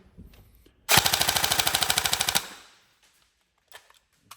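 A TM 416 NGRS rifle fires one fast, rattling full-auto burst of about a second and a half, loud and close. A few faint clicks of handling follow in the quiet afterwards.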